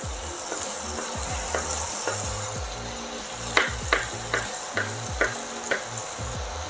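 Bell peppers pan-fry in a hot skillet with a steady, soft sizzle, punctuated by several light scraping stirs and taps of a utensil against the pan.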